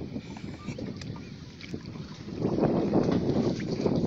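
A boat moving on open sea water off a Mombasa beach, with steady wind buffeting the microphone, a continuous rushing wash that grows louder and fuller in the second half.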